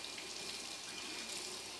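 Hot tap water runs steadily while surgical blades are rinsed under it, a continuous soft splashing hiss at moderate distance with no voices.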